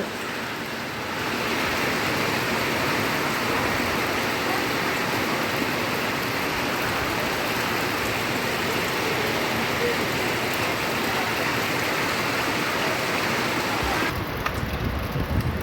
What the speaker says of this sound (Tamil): இப்போ பாருங்கள் வேலுக்குறிச்சியில் செமையாக மழை பெஞ்சிட்டு இருக்குது